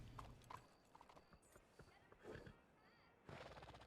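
Horse hooves clip-clop in a Red Dead roleplay game, a quiet, uneven patter of hoofbeats with a brief whinny-like sound and faint background noise, ending in a louder burst.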